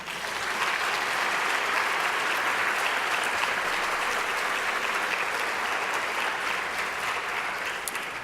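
Sustained, dense applause from a large conference crowd honoring Outstanding Women of Color at UW-Madison, a steady even roar of many hands lasting throughout with no talk over it.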